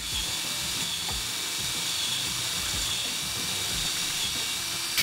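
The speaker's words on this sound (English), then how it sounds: "drilling a couple of holes to access some threads" A high-pitched whining step drill runs steadily with a faint hiss, cutting holes through motorcycle trim in short repeated pulses, close by.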